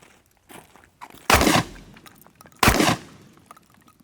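Two loud, sharp shotgun blasts about a second apart at an outdoor range, fired at a Ravencrest Tactical OTF knife, with faint shuffling and small knocks in between.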